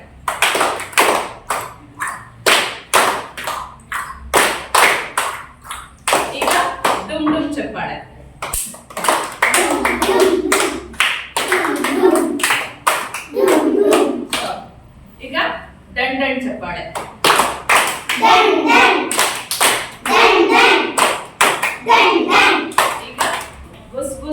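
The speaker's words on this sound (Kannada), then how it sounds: "ಈಗ ಕುದುರೆ ಚಪ್ಪಾಳೆ" Children clap a 'horse clap' pattern in a classroom, with quick, even rhythmic claps running steadily over chanting voices, loud and close throughout.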